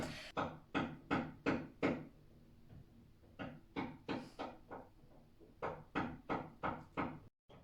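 Knocking from renovation work at a neighbour's place, bursts of four or five sharp wooden-sounding knocks in quick succession, repeated several times with short pauses, muffled as if through a wall, no talk.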